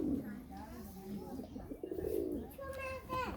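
Pigeons coo in a few soft, rolling calls at close range, mixed with children's and adults' voices talking nearby.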